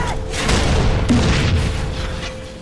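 Frag grenade detonation in the video game Halo, a loud low boom rolling through the clip with continuous game noise and a steady tone underneath.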